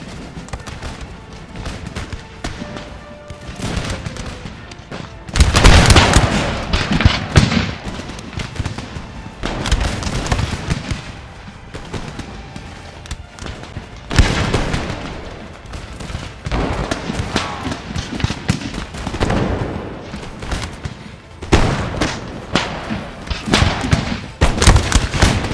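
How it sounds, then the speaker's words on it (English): Massed musket volleys from line infantry in a 1700 Battle of Brussels recreation in Empire: Total War, heavy cracking bursts that roll across the field repeatedly with continuous battle din between them. "finally, the order to fire will be given."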